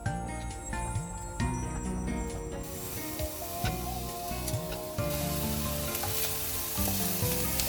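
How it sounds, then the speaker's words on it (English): Onions sizzling loudly in melted butter in a pan for Hamburg steak, a dense continuous frying crackle with occasional metallic clinks and scrapes of a utensil, close up and with no talk. "The butter melt throughout the pan. Now we put the onions."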